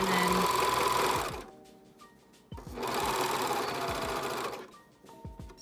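A sewing machine stitches around the edge of a fabric face mask in two close, steady bursts of rapid whirring, with quiet handling noises in the pause between them.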